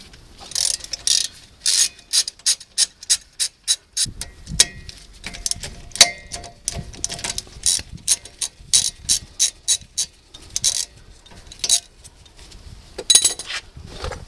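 A hand ratchet loosening the caliper bolts on a 2010 Chrysler Town & Country during a rear brake pad job, rapid clicking bursts repeating in quick rhythmic runs, close and loud, with short pauses and no talk.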